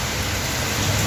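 Heavy rain pours down in a short, steady burst of dense hiss, with no voices.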